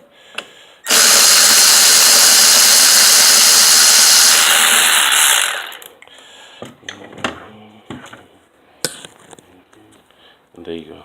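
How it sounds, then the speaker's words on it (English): Old rear shock absorber being removed from a BMW E93, with a loud, steady power-wrench burst lasting about five seconds at the top mount, then quieter clanks and taps of tools nearby. "So I'm using my wrench at the top."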